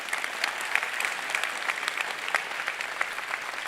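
Steady audience applause fills a chapel, dense continuous clapping from many hands holding an even level throughout with no speech over it.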